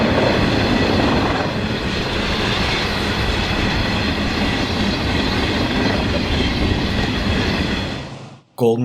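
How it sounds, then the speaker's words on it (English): A Santa Fe Golden Gate passenger train, number 60, speeds east on the rails near Riverbank with a loud, steady roar and clatter of wheels that carries on without a break, then cuts off abruptly. "Golden Gate train number 60 speeds east as it approaches Riverbank."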